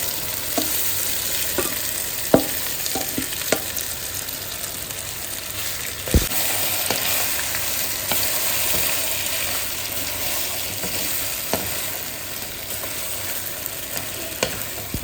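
Smashed potatoes fry in hot oil with asafoetida and dried red chillies, giving a steady close sizzle throughout with occasional sharp clinks and scrapes of stirring.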